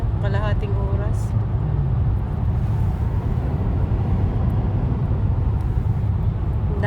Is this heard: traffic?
yes